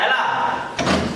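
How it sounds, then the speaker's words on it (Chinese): A house door opened in a village home, a short dull thump partway through, heard under people talking. "我呀先去开门"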